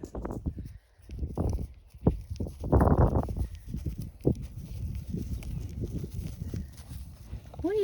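A cow walking away across the ground, with irregular hoof thuds and scuffs at close to middle distance and some rustling noise in between.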